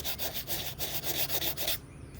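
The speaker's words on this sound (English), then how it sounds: "See how easy it just sands right off, but it stays too." Paint being sanded off a faux camera, a few seconds of close, rhythmic back-and-forth rubbing strokes that stop abruptly, with no talking.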